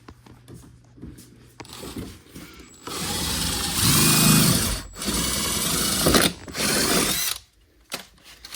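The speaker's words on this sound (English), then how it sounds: "So you're just going to drill them all out like that." Power drill on a Yamaha Rmax side-by-side drilling out fender flare fasteners, whining in several bursts of varying length with brief pauses between, close and loud.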